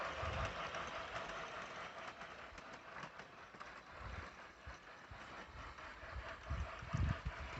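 A Hornby Hogwarts Express model train regauged to G scale 45mm runs in reverse on the track, giving a steady close rumble and rattle of wheels with a few heavier knocks near the end.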